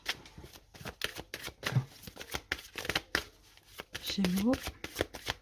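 Tarot cards shuffled by hand in quick, rhythmic riffles, close and crisp, with a person speaking briefly over the repeated card flutters.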